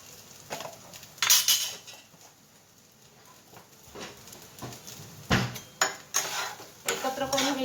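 A spoon stirs turmeric into rice in a pan while making fried rice (bhat): irregular scraping and clinking of metal on the pan, some sharp taps, fairly close, with quiet speech at times.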